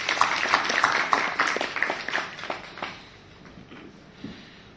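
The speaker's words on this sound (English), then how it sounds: "round of applause for Pratibha." An audience at a university study-abroad panel discussion in a hotel gives a round of applause, a brisk patter of many hands clapping that swells then thins out and fades over a few seconds.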